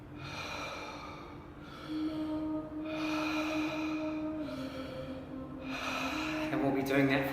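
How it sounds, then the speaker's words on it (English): Continuous cyclic mouth breathing in breathwork practice, long audible inhales and exhales flowing into each other without pause, fairly close, over a soft sustained musical drone. "we're going to be doing cyclic breathing, which means we're going to be breathing in and out our mouth with no pause"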